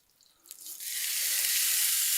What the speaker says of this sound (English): Ooh, you hear that sizzle, right?